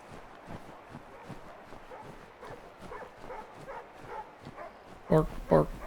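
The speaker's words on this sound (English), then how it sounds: "Bark, bark, bark, bark." A dog in the video game Assassin's Creed 3 lets out two loud, sharp barks at the very end, following a stretch of quiet game ambience and murmured speech.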